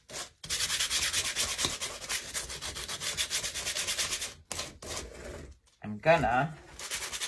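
Sandpaper rubbed by hand over a lightweight Dollar Tree craft piece, a steady dense scratchy rasp of quick back-and-forth strokes, close and loud, pausing briefly near the end as a voice speaks.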